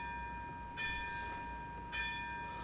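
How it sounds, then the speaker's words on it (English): Two clear metallic bell strikes about a second apart, each with bright ringing overtones that linger over a faint steady background hum. "The bell invites me."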